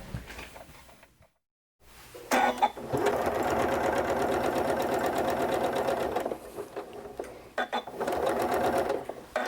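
A sewing machine stitches pieces of quilt fabric together in close, steady runs, its rapid mechanical whir broken by a brief silent pause near the start and short stops between bursts.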